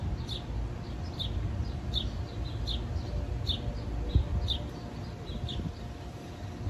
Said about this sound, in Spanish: me encanta escuchar el sonido de los pájaros